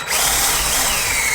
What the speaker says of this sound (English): grab your variable speed drill,